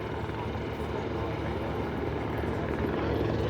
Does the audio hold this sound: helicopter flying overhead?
yes